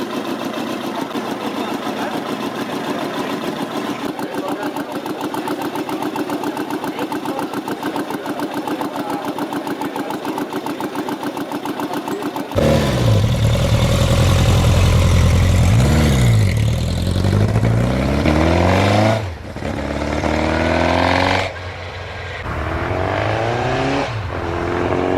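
A 1960s Munch Mammut hyperbike engine runs at a steady, rough idle, then revs hard in loud rising and falling surges, ending in a few sharp throttle blips with brief drops between them.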